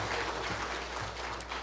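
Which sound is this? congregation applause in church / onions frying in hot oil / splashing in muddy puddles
congregation applause in church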